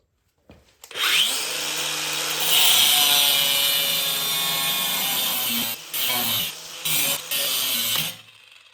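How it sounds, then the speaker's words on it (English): An angle grinder cuts through a car's tie rod on a BMW F31 335i wagon, a loud sustained high-pitched whine with a rising spin-up, then several brief pauses and restarts near the end, heard alone. "cut this with a grinder, remove the boot"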